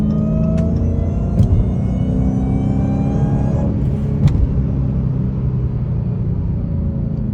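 A Dodge Hellcat engine in city traffic gives a loud, steady, close rumble and whir throughout, with a few faint higher tones riding above the drone.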